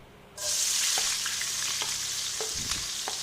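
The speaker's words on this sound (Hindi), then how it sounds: "तेल गर्म हो जाए तो फिर इसके अंदर हमने पहले प्याज फ्राई करने हैं" Onions frying in hot oil in a kadai give a loud, steady sizzle that starts abruptly and runs throughout, with occasional soft scrapes of stirring.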